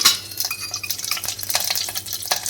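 Mustard and cumin seeds sizzling in hot ghee, tempering for a traditional Gujarati wedding-style dal, with a soft continuous crackle and scattered light pops, fairly quiet and close, with no talking.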